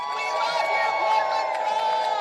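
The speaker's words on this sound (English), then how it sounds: "Let's give the Portland Frog a round of applause." A rally crowd at an anti-Trump protest in central Madrid cheers and shouts in a sustained, fairly close roar, with voices blending into a continuous mass of sound.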